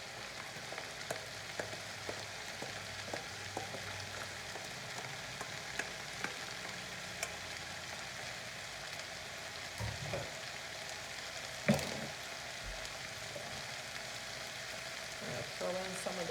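Stir-fry sizzles steadily in an overfilled home frying pan, a continuous bright hiss with a few faint scrapes and a sharper clatter partway through, close and fairly quiet.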